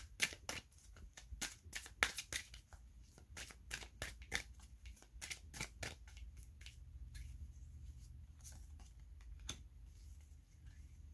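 Tarot cards are drawn and shuffled at close range, a quiet run of sharp snapping flicks and papery slaps, dense early and thinning out, with no talking.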